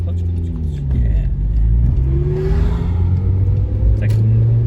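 A manual car's engine revs repeatedly while someone learns to drive, giving a close, steady low rumble with rising and falling pitch throughout, with faint voices present.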